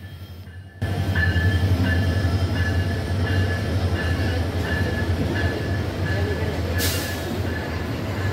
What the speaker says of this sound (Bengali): এইমাত্র নাটোর রেল স্টেশনে প্রবেশ করছে কুড়িগ্রাম থেকে ছেড়ে আসা ঢাকা অভিমুখী কুড়িগ্রাম এক্সপ্রেস